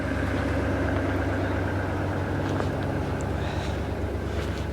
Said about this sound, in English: I'm going to let this truck run for a little bit.